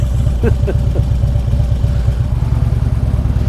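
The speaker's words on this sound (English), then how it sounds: "If I could ever get out of this traffic." Cars and motorcycles idle and rumble in stuck traffic on Tanna Island, Vanuatu, with a loud, close, low engine drone and a few brief clattering ticks early on.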